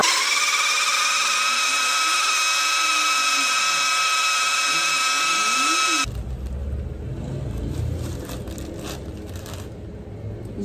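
A blender runs with a steady high whine for several seconds while blending hot peppers with vinegar for a pepper sauce, then cuts off, leaving quieter rustling and handling noise.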